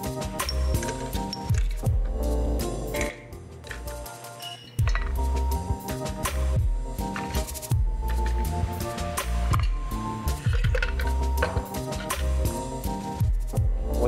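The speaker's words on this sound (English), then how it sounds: "In your decanter now, we're gonna add 100 grams of ice." Ice cubes clinking and clattering into a glass coffee decanter, 100 grams added before brewing an iced Kalita pour-over, a steady run of bright glassy clinks and tumbling rattles at close range.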